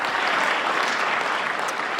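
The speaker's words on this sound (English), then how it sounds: "Something you rarely see on Capitol Hill, a witness exit to applause." Applause fills a Capitol Hill hearing room as a witness exits after adjournment, a steady, dense clapping from a crowd at moderate distance, continuous and alone throughout.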